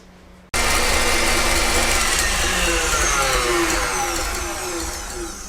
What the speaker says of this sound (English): into that add about a tablespoon sugar and whisk this until it comes to the soft peak